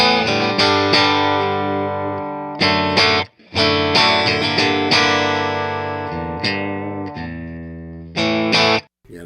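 Clean electric guitar through a Fender Deluxe Reverb amplifier into a closed-back 4x12 cabinet, a series of loud strummed and picked chords with brief pauses between phrases, ringing out alone with no voices.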